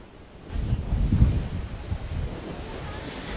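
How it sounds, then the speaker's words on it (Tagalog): Strong storm winds buffet the microphone with low rumbling gusts while waves surge nearby, in San Fernando City during flooding rains; one heavier gust swells early, then a steady roar carries on. "Patuloy pa rin ang malakas na ihip ng hangin na nagpapalakas ng alon."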